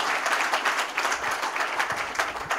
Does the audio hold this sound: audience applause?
yes